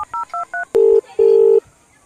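A phone is dialed with a quick run of four short touch-tone beeps, followed by two longer, lower steady tones, loud and close with no voices.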